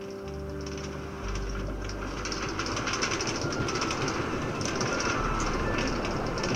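A Brooklyn-bound A Express subway train in New York City rumbles along the rails, a loud, continuous roar with rattling and a low drone, steady throughout with no voices.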